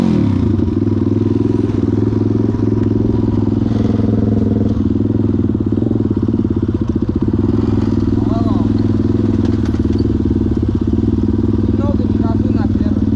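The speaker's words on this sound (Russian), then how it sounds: "Много не газуй на первый." A Kayo Pro pit bike engine runs nearby with a loud, steady, throbbing drone that rises slightly in pitch at times, while voices talk over it.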